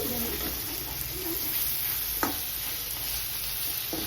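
Marinated chicken with onions frying in a pan, a soft steady sizzle with a couple of sharp scrapes and clinks of stirring, fairly quiet and close, no talk.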